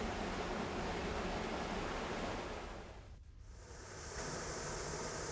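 Water rushes steadily through a watermill sluice channel in a dense, broadband roar. It dips briefly midway, then swells back to a constant loud flow with no voices.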